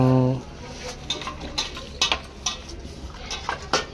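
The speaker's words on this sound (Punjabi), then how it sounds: "ਜਿਹੜੇ ਭਾਂਡੇ ਤਾਂ ਗਰਮ ਪਾਣੀ ਨਾਲੇ ਮਾਂਜਣੇ ਪੈਣੇ ਤੁਹਾਨੂੰ" Pots and dishes scrubbed in hot water clink and clatter in irregular sharp knocks after a short voice at the start, the metal-on-metal taps close and fairly loud.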